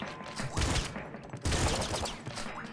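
Shotgun fire in the game Nuclear Throne, two bursts of rapid blasts about a second apart, loud and close, with rattling debris between them.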